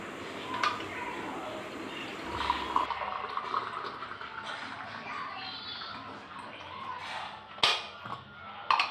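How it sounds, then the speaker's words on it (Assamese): A drinking glass rinsed under running water at home, a steady watery wash with occasional clinks and splashes, fairly close and continuous, with faint background voices. "গ্লাসটো ধুই আছো"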